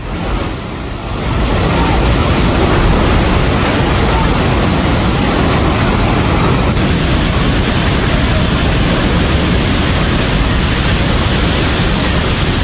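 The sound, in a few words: rushing flash flood water in Nepal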